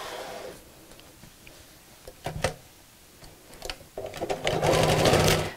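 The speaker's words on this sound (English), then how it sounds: "I'm going to sew all the way around the edge but leave a turning gap" A sewing machine stitches around the edge of a picnic blanket in short bursts, the last and loudest run continuous, with light clicks and pauses between runs.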